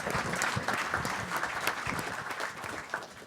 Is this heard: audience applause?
yes